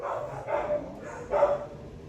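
Three short, close barks from a tiny puppy in the dog area of an animal shelter, spaced about half a second apart.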